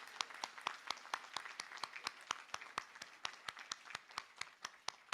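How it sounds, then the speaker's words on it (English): An audience at a law school commencement gives a round of applause, with steady, evenly spaced handclaps heard faintly, as from a distance, in a large hall. "let us give your loved ones a rousing round of applause"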